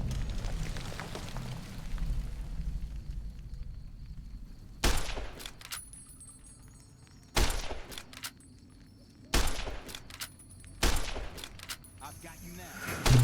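Gunfire in Fallout New Vegas: after a stretch of noisy rumble, four sharp, loud shots ring out at spaced intervals, each with a short ringing tail, under quiet talk.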